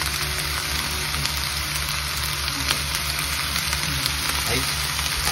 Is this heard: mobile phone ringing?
no